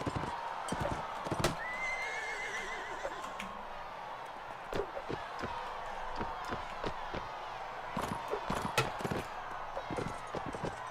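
Hooves clatter in a fast galloping rhythm while a horse neighs during a siege battle in Mount & Blade: Warband, with game-like impact sounds and a faint background crowd.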